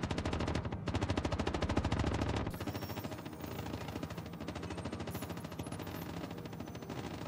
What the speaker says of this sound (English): The guy that he ran over has now got back up and is shooting again